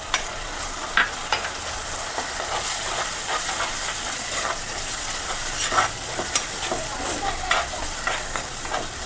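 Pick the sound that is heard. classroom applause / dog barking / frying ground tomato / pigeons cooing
frying ground tomato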